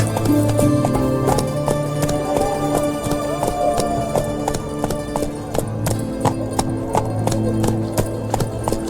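Roach, a horse, gallops with fast, steady clip-clop hoofbeats in The Witcher 3: Hearts of Stone, loud and close throughout, with a game score playing underneath.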